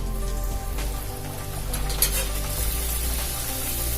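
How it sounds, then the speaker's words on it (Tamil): Maida poori fries in hot oil in a kadai, giving a dense, rain-like sizzle and bubbling that stays steady and close throughout, with a faint clink from the utensil and no speech. "எண்ணெய் சூடு ஏறிடுச்சு. நம்ம பூரி போட்டுக்கலாம்."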